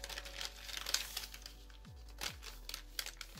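Origami paper being creased and folded for a Santa crane model, with quiet crinkling and soft rustles scattered through the clip, faint and close, with no voices.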